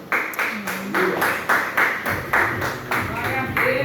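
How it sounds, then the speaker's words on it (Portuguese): A church congregation claps in a steady rhythm during a worship service, each beat landing about every half second, loud and close, under ongoing voices. "Você pode aplaudir ao Senhor?"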